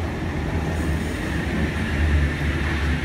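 A train rumbles steadily nearby with low mechanical hum and a hiss of noise, no voices.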